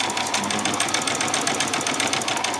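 A sewing machine runs an ordinary straight stitch along a bodice seam, a fast, even mechanical rattle of needle strokes, steady and close, with no talking.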